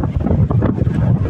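Rough seas on a rainy day in the Andaman Islands send waves washing over a coastal road, heard as a loud, brief rush of churning water mixed with heavy wind buffeting the microphone.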